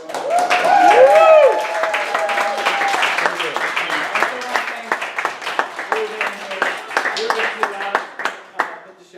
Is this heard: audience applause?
yes